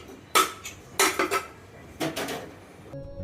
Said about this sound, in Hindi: तो अभी फ़िलहाल ये बर्तन वगैरह लगा ले रही हूँ।